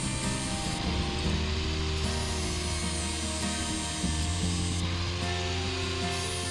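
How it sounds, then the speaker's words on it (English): A 4-inch angle grinder fitted with a flap disc grinds an edge onto rototiller tines, giving a steady high-pitched whine with a shifting, rough grinding tone that keeps up loudly and without a break the whole time. "I used a 4-inch angle grinder with a flap disc to put an edge on the tines."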